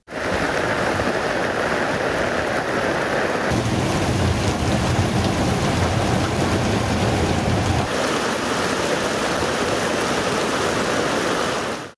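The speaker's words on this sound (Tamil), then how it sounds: "இடி மின்னலுடன் சுமார் 1 மணி நேரம் கனமழை பெய்தது" Heavy rain pours steadily with thunder during an evening storm in Tamil Nadu, a dense, loud continuous roar of rainfall with a deeper rumble swelling through the middle, with no voices.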